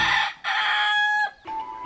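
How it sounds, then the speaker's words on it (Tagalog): A fighting cock crows close and loud, a single strained cock-a-doodle-doo in several drawn-out bursts with a brief break before a lower closing note, heard alone without talk. "Kwento ng kasamahan ni Ruel na si Andoy, sideline na raw talaga nilang magbitaw ng manok sa tuwing may sabong sa kanilang lugar."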